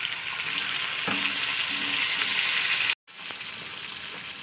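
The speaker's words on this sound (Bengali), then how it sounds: "একটা মাছ ভাজা হয়ে গেছে এটা আমি উল্টে দিচ্ছে" Tilapia fish fries in hot oil in a kitchen pan, giving off a loud, continuous sizzle with a few soft clinks, and a sudden brief silence near the end before the frying hiss resumes.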